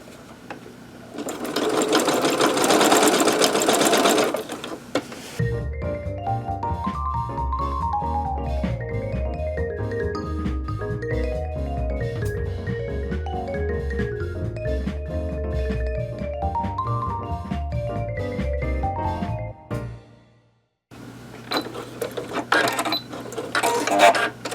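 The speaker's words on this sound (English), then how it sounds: "just going to sew a U shape so that I can turn it, and we'll go ahead and get that done" A sewing machine runs steadily and close, stitching a wide U-shaped seam through a hemmed tea towel, its fast rhythmic needle clatter continuing for about fifteen seconds between louder handling noise before and after.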